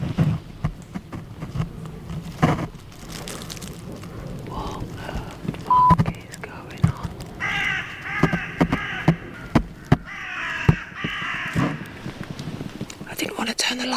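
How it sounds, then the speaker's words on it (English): Crows cawing at night near a campsite tent, several short harsh calls scattered through the middle and later part, heard over low rustling and soft noise, with quiet voices at times. "she heard crows flying away, suggesting that someone or something had startled the sleeping crows"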